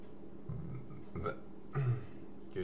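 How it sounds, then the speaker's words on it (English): A person gives a few short burps, faint and close, spaced irregularly across a quiet background, with the last one the most noticeable. "Excuse me, I just burped."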